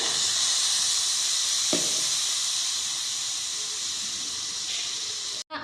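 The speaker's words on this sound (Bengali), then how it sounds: "3 চামচ চিনি আর 1/2 চামচ জল দিয়ে" Three spoons of sugar with half a spoon of water caramelizing in a pan for semai payesh, giving a steady close hiss and sizzle with one brief crackle, no talk, cut off abruptly at the end.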